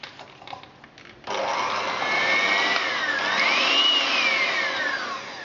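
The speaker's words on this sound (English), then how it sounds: "I'm just going to use an electric whisk and just soften them together." Electric hand whisk creaming butter and sugar in a bowl for mini Victoria sponge cakes, switching on after a second of quiet and then whirring loudly and steadily, its pitch rising and falling slightly as it works.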